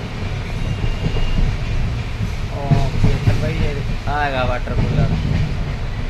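Passenger train rumbling beneath the Malor bridge near Amloat, a steady low rolling roar with faint wheel squeal, heard from on board under nearby talking.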